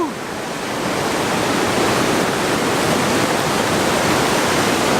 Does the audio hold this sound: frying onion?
no